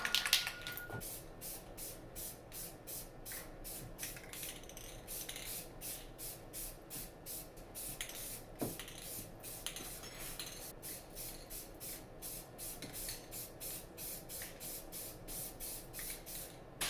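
Spray paint is misted on in a light coat, a soft continuous hiss broken by faint rhythmic rattles and clicks of the can, quiet and close with no talking.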